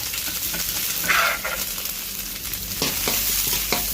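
Food sizzles and crackles in hot oil, with scraping and clanking as it is tossed and stirred in a wok, close and continuous.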